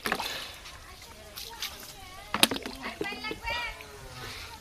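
Water splashes and sloshes in uneven bursts as a man is bathed outdoors, close by, with people talking over it.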